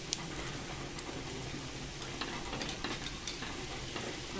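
Onion pakoras (bhaji) frying in hot oil over a medium flame: a steady, quiet sizzle with soft crackles and ticks, continuous and close, with no talking.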